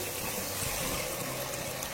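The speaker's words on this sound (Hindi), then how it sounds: "अब इसमें हम पानी शामिल करेंगे।" Water is added to dal frying in a pot, a dense, steady rushing hiss and bubbling that stays even throughout, close and without talk.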